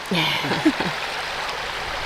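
River water flows steadily at a confluence near an old industrial mill, a broad close rushing wash. A brief murmur of voice sits near the start.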